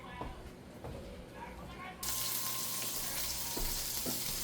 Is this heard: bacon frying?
yes